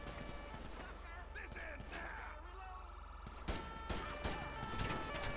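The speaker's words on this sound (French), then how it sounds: "Voilà, déjà ça part en fusillade." In-game gunfire in GTA V, police patrol mod with a gendarmerie dog unit: a burst of several sharp shots then further loud cracks, mixed with a talking player and game noise.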